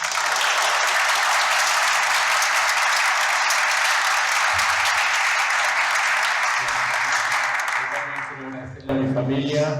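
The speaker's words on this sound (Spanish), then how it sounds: "Vamos a darles un aplauso." Audience applause at an inauguration: dense, steady clapping that fills about eight seconds, then thins and fades as a voice starts speaking close by.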